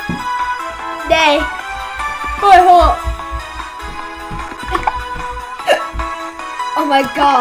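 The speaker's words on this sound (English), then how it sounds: "Well, I hate hiccups." Repeated hiccups from a person while playing games, sharp voiced catches recurring every couple of seconds, close and loud, with talking in between.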